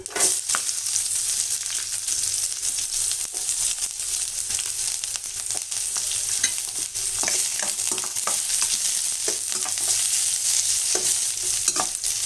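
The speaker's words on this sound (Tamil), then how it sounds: "இப்போ கடுகு பொரிஞ்சிச்சு இதில் வந்து கட் பண்ணி வச்ச வெங்காயம் போட்டுக்கலாம்" Chopped onions frying with popped mustard seeds for tomato rice, a loud continuous close sizzle with frequent stirring scrapes and crackles throughout, no voices.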